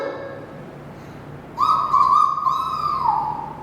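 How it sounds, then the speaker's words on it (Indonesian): A single long rooster crow rings out loud and near, drawn out and wavering before tapering off, following a quiet stretch. "Itu bukan suara kokokan ayam biasa lagi"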